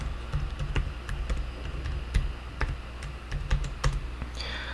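Password being typed on a computer keyboard, soft close keystrokes tapping in an uneven rhythm over a quiet room hum.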